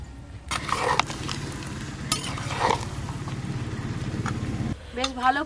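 Mutton being stirred in a pan, continuous sizzle and scraping of a spatula against the pan at close range, with a brief pause near the end followed by a short voice.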